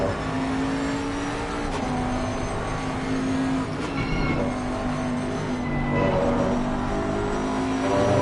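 Bentley GT race car in ACC working through a chicane, its engine note rising and dropping through gear changes and braking, with other cars droning nearby and a commentator's voice faintly underneath.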